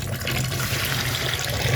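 Food is rinsed under a steady stream of running water, a close, continuous splashing and gurgling rush with no voices.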